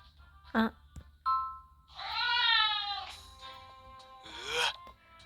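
A cat in a video game meows and caterwauls, with a short mew, then a long wavering yowl and another sharp meow, clear and fairly close, with no talk.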